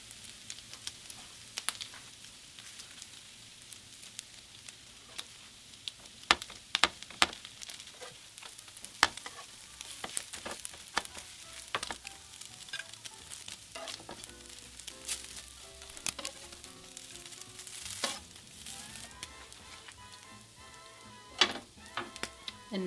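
Birria quesadillas cook on a griddle with a soft, continuous sizzle, punctuated by sharp spatula scrapes and taps spread irregularly across the stretch, heard close up with no voices.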